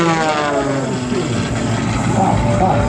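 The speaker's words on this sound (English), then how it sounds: "We're going to make that airplane fly backwards." A propeller airplane flies aerobatics at a riverside air show, its engine a steady, loud droning hum that holds through the whole stretch without a break.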